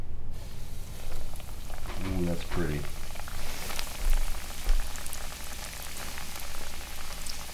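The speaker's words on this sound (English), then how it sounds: "It's sizzle time." Goliath grouper fillet seasoned with a citrus blend searing in a hot pan, giving a steady broadband sizzle throughout with a brief voice remark partway in.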